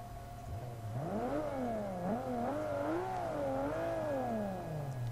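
In Forza Motorsport 5, a car's engine cranks and catches with an automatic transmission, then revs up and down in several smooth swells before easing back toward idle, heard clearly and alone.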